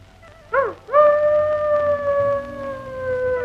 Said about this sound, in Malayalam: അതൊരു ഭ്രാന്തൻ നായായിരുന്നു.